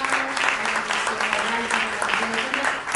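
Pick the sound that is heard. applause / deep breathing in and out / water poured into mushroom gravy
applause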